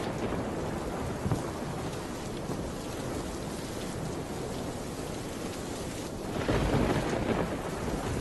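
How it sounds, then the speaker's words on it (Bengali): Steady rain pours down in a Bangla cartoon, a dense continuous hiss of drops on surfaces, while thunder rumbles low beneath it and swells louder toward the end. "এ তো দেখছি বৃষ্টি শুরু হয়ে গেল"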